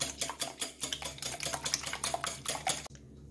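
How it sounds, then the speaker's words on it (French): A whisk beats eggs with milk and olive oil in a salad bowl, making quick, close, rhythmic metallic clinks and scrapes against the bowl that stop abruptly near the end. "Dans un saladier, je fouette mes œufs."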